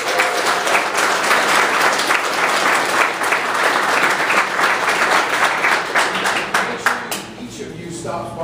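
A crowd at a university game jam event cheers and applauds for Raphael, sustained dense clapping that stays loud for several seconds before thinning out, with voices mixed in.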